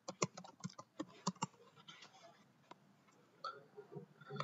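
Rapid keystrokes on a computer keyboard as a terminal command to install NGINX on Ubuntu is entered, with irregular bursts of clicks and short pauses, close and fairly quiet.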